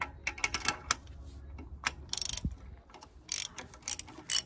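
Ratchet wrench loosening a bolt on a 2013 Dodge Dart 1.4 Turbo during transmission service, close-up rapid clicking bursts of the pawl with metallic clanks between strokes, uneven and up close.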